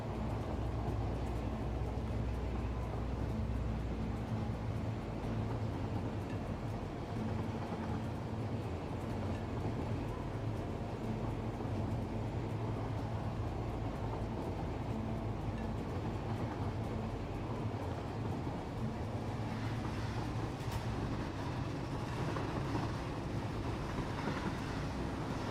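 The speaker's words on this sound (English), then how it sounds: "Bit of stuttering from the train on the tracks." Train rolling along tracks in Satisfactory VR, with a steady low rumble and rattle of the railcars running continuously and fairly close, the sound stuttering slightly, no voices.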